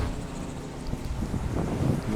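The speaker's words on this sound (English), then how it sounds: "I hope the wind is not knocking out my voice, because this breeze at night has just been, man, killing it lately" Steady night breeze buffets an outdoor microphone, a continuous low rumbling wind noise that swells a little louder toward the end, with no voice over it.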